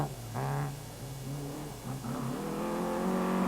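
A rally car at the 1984 Ashley Forest rallysprint drives past on a forest stage, its engine note rising and falling as it revs hard through corners, loud and close, with the tail sliding out.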